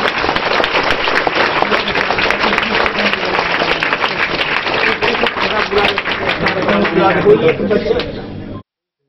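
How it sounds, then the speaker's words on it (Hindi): A gathering applauds its guests with vigorous, crowded clapping and some murmured chatter, the sound staying loud and busy before cutting off abruptly. "एक जोरदार ताली इन लोगों के लिए हो जाना चाहिए"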